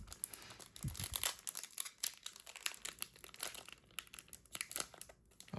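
Sealed 2024 Prizm Draft Picks football trading card packs being torn open, a steady run of close crinkling foil and ripping bursts with no talk.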